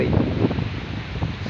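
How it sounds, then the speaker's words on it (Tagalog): Strong typhoon wind roars and buffets the microphone in a dense, rushing noise with surging gusts. "Pakinggan nyo po ang simoy at ang gupit ng hangin dala ng bagyong Pisoy."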